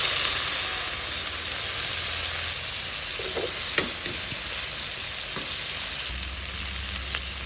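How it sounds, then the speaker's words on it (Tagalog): Onions sautéing in a pan for Filipino salmon belly pesa, a steady close sizzle and hiss with a few faint stirring clicks, no talking. "Lutuin na natin konti ang ating sibuyas."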